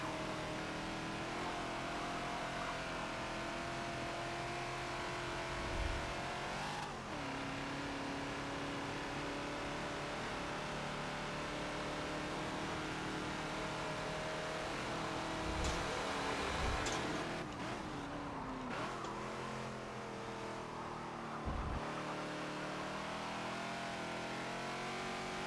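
A Ford Falcon XB racing at Maple Valley in a Forza video game, the engine droning steadily at high revs with shifts and occasional bumps, loud and continuous with no talk.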